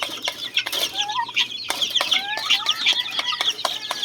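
Many backyard chickens cluck and chatter together nearby in a busy, overlapping flock, with occasional sharper squawks and rustling.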